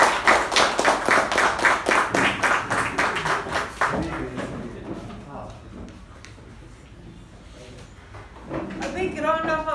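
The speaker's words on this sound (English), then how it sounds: "A big round of applause for Toastmaster Udanka for his patience." Audience applause at a Toastmasters club meeting, crisp overlapping claps that start loud and dense, thin out into scattered taps and room noise, then swell again near the end.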